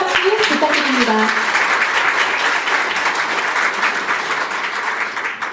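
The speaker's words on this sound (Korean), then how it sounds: "격려와 감사의 큰 박수 부탁드립니다" A crowd at the 2023 Korean internet journalism awards ceremony bursts into loud, sustained applause that slowly fades. A voice is heard briefly at the start.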